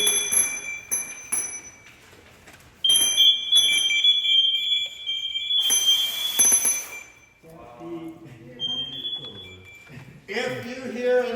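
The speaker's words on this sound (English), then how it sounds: "If you hear an SCBA start to go into an alarm, it is you." An MSA SCBA PASS device alarm sounds with shrill, repeating electronic tones and chirps, pulsing in bursts at close range while a person talks over and between them.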